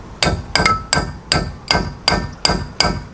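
Hammer blows ring out on metal during a rear disc brake install on a 1971 VW Karmann Ghia, eight or nine sharp, close strikes in an uneven rhythm with brief metallic ringing after each hit.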